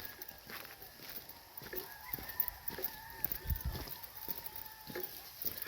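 Fighting roosters in a coop in Murcia, Negros Occidental, cluck and murmur in short repeated bursts, with a faint distant crow; moderately quiet, with faint background voices.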